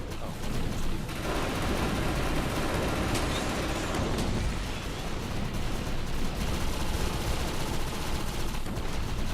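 Rapid SMG fire from a multiplayer video game, a dense continuous burst of electronic-sounding shots filling the whole stretch at steady high loudness with no pauses.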